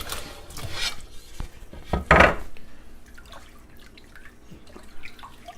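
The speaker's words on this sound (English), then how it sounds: "Now I've cut these potatoes up and we're going to put them in the ice water." Cut potatoes are stirred in ice water in a kitchen sink, producing a few close splashes and sloshes, one louder than the rest, followed by faint drips and clinks.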